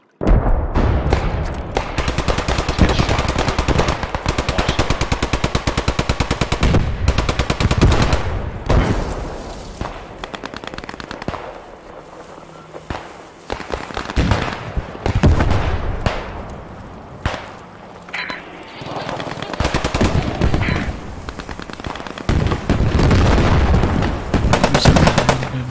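Heavy gunfire from the World War II shooter Post Scriptum: rapid machine-gun bursts and single rifle shots crack in dense, loud volleys with short pauses, continuing throughout.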